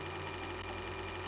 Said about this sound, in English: So let's ring this doorbell.